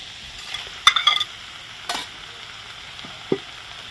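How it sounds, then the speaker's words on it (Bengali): Potatoes and eggplant stir-fried together in a pan, with a few sharp spatula scrapes and stirring clatters over a faint steady sizzle, near and otherwise quiet. "আলু আর বেগুন এবারে একসাথে কষানো হবে"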